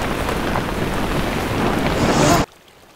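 Rushing stream water flowing steadily in an outdoor fly-fishing setting, a loud, broad continuous wash that cuts off abruptly near the end, leaving near silence.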